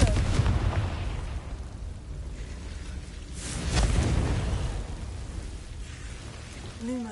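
A Confringo blasting spell explodes in the Hogwarts Legacy video game with deep, rumbling booms that swell and fade in waves over a low, rain-like roar of ambience.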